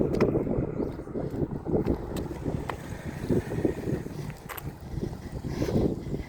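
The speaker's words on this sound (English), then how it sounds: "It's a bit windy down here." Wind buffets the microphone in a low, continuous rumble that swells and eases unevenly throughout.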